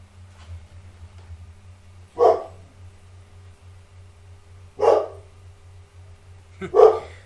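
Dogs barking indoors: three separate bursts of barking spaced a couple of seconds apart, moderately close, over a low steady hum, with no talk.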